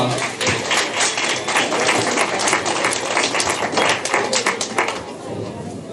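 Crowd applause at a 4-H/FFA swine show, a loud burst of many hands clapping that swells and then thins toward the end, with some talk mixed in.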